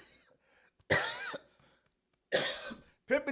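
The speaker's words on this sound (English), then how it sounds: "coughing crazy on the microphone" Several harsh, close coughs in separate bursts, loud and clipped as if right against a microphone, with quiet murmuring between them.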